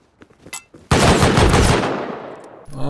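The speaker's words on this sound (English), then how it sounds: "Makita nail gun. Well, the nail gun I have at least. Sounds like a fucking gun." Nail gun fire in the video game Rust: a few faint clicks, then a sudden loud burst of rapid, gun-like shots that gradually fade, with a voice at the very end.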